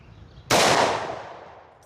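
A single loud, sharp shot from a Glock 20 10mm pistol cracks nearby, then rings out in a long fading outdoor echo.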